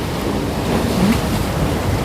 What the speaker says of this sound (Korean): 와, 파도 소리. 와, 어제보다 파도가 더 세네요.